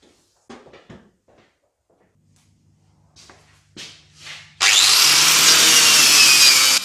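Wire brush scrubbing old underseal off the underside of an 80s Honda CR-X, starting after a few quiet scrapes and clicks as a loud, steady, continuous rasping that holds to the end.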